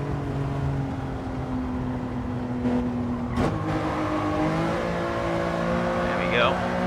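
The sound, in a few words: Lamborghini Countach racing, Gran Turismo 7 video game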